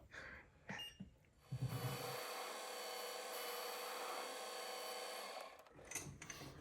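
A metal lathe starts up with a steady machine hum and whir, holds evenly for several seconds with a faint rasping texture, then winds down and stops.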